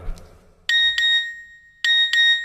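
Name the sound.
SMS text message notification tone on a phone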